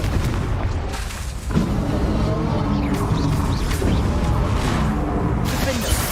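Confringo blasting spell cast in the game Hogwarts Legacy, a dense roar of booming, crashing impacts and shattering debris that fills the scene continuously, loud and close, with a sharper burst around the middle.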